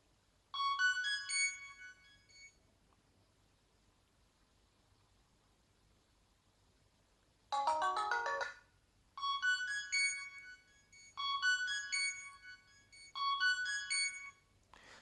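A Lava Iris X8 phone plays its ringtone in bursts of bright, melodic electronic chime phrases separated by silence, close and clear with no talking.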